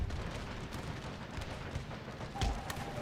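Artillery and massed musket fire in Empire: Total War, a distant, continuous rumble of booms and crackling volleys with one heavier thump near the end, no speech.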